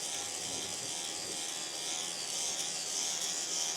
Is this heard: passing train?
no